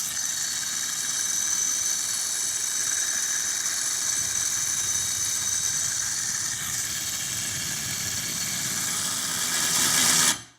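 A Milwaukee 12V cordless angle ratchet undoes a warmed nut with a steady, buzzing motor whine that runs continuously for about ten seconds before cutting off abruptly.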